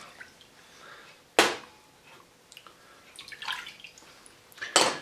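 Beef broth poured into a large mixing bowl of short rib marinade ingredients, a soft liquid splash between two sharp clanks of containers against the bowl, heard alone with no talk.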